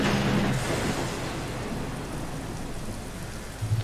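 Steady, dense rain pours down in a video game, a broad continuous hiss with no let-up and no talking.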